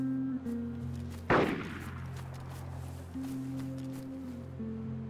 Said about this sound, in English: They're shooting at these guys.